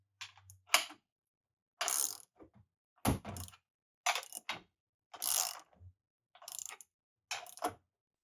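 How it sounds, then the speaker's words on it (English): A 3/4 inch ratchet tightens bolts a little at a time to pull a plate back up, giving repeated short bursts of clicking and mechanical rasping separated by pauses, close and moderately loud with no talking. "we'll just start with a 3/4 inch ratchet, tightening these up little by little"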